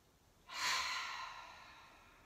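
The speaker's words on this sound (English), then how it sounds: "So let's squeeze the shoulders up really close to the ears as you take a big breath in." A single deep breath drawn in through the nose during a Hatha yoga class, close and soft, swelling quickly and then tapering off slowly, with no talk.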